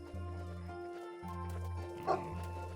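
A dog in a video game gives short yips and bow-wow barks in a few bursts over a low droning game hum, fairly quiet, with no voices.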